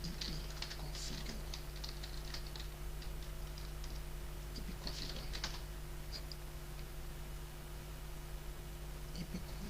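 Typing a command on a computer keyboard at a Windows XP command prompt, scattered light clicking keystrokes in small bursts over a constant hiss and hum.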